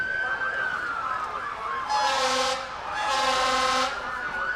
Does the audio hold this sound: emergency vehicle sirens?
yes